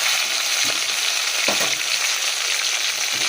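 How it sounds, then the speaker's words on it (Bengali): Fish frying in a pan in a home kitchen, a continuous hissing sizzle with a couple of soft knocks from the pan or utensil, close and steady, with no talking. "এই যে মাছ ভাজা হলো"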